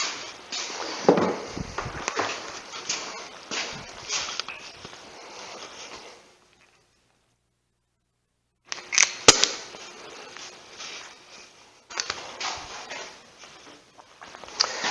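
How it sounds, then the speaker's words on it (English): Small pneumatic pin nailer firing pins into oak picture frames during assembly, sharp snapping shots in bursts with handling noise between, close by, with a silent pause in the middle. "I'll get my little pin gun ready here."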